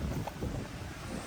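Strong evening wind on Boracay buffets the microphone in a brief, steady rumbling roar, with no voices.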